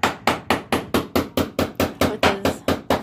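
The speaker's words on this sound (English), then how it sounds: "Dad is hammering over there" Rapid, even metallic strikes from a homemade hammer, about a dozen in a steady rhythm, loud and close.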